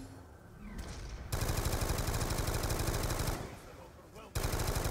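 Sustained automatic gunfire from a weapon in the Call of Duty Zombies Origins map, loud continuous bursts with brief pauses around the middle and near the end.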